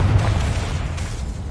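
A Confringo fire spell bursts in Hogwarts Legacy, a deep rumbling blast with a heavy low boom that rolls on steadily for over a second, loud and close, with no talking.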